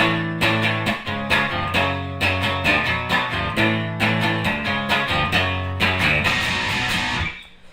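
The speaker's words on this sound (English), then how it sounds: "I'm using a Boss DS1 distortion pedal to get that crunch" Electric guitar through a Boss DS-1 distortion pedal chugs chords from a song in a repeated rhythmic pattern, crunchy and loud, ending with a ringing chord fading out.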